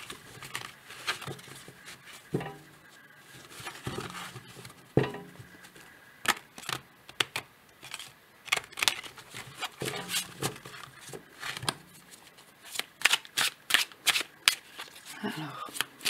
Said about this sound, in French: Je brasse les cartes.